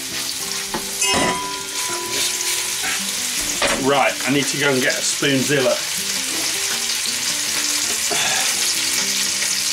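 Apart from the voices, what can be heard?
meat sizzling in hot pot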